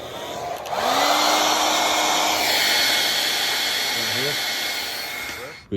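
A portable heater blows hot air with a steady, loud whooshing roar in a cold garage during a Camaro restoration, starting up, holding for several seconds and then fading near the end.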